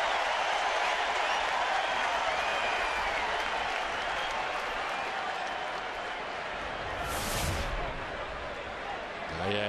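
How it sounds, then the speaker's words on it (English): A Fenway Park baseball crowd sends up a mocking raspberry cheer, a broad, distant roar of many voices and scattered clapping across the ballpark that swells briefly late on. "And a raspberry cheer from the Fenway faithful."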